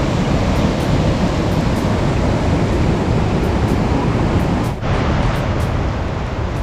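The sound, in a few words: Seetharkund waterfall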